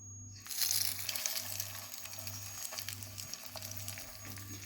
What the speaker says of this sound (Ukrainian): викладаємо цей конвертик у олію на сковорідку